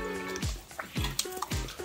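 Water from a bottle splashes onto garden plants in a few separate bursts, with drips and small wet splatters close to the microphone.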